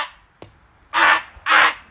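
A crow gives two loud, harsh caws in quick succession, close by, after a short quiet gap with a faint click.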